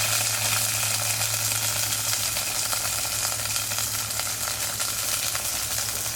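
Oil sizzles and crackles steadily in a pan while cooking a village-style tomato dry fish curry, a close, continuous hiss with fine spattering pops and no talk.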